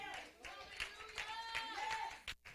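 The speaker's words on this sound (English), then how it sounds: "Can y'all give the Lord a hand clap of praise?" A church congregation claps in praise, scattered hand claps against voices and singing, faint and somewhat distant, with a sharp clap pattern over about two seconds.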